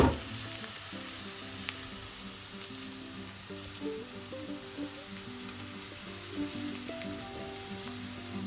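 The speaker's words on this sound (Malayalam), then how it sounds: "മീഡിയം ഫ്ലെയിമിലൊന്ന് ഫ്രൈ ആക്കാം." Ivy gourd (kovakka) frying in a covered pan over a medium flame, giving a steady, dense sizzle with soft crackles throughout, close and moderately loud, with no voices.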